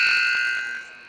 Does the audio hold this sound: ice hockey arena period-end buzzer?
yes